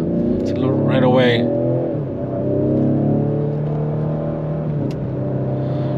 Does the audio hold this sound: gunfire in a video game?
no